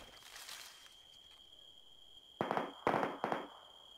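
Three sharp, quick explosive bangs from the video game Arma 3 go off in close succession, somewhat faint, after a quieter stretch with a thin steady tone.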